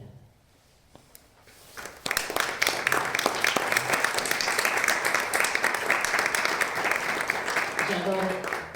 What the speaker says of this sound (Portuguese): Nós gostamos imenso de aplausos, mas gostaríamos muito que aplaudissem no fim